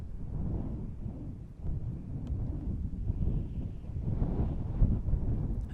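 Wind in the video game The Long Drive makes a steady, low, blustery rumble that surges gently throughout, with no voices over it.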